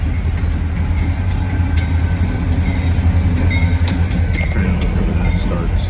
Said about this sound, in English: we had a train out of nowhere